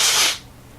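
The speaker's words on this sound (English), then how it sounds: "at least just blow my nose or something" Someone blows their nose into a t-shirt: one sharp, breathy nasal blast, close and loud for about a third of a second, then it cuts off into quiet room noise.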